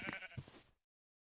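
A Minecraft sheep bleats in a single short wavering call, moderately loud and close, ending abruptly in silence with no voices.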